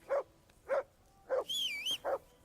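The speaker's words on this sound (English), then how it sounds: "Call off that damn dog before he wolfs down the last of our meat" A dog in Kingdom Come: Deliverance 2 gives three quick barks, then a high rising whine or yelp, and a final bark, all close and fairly loud with no talking.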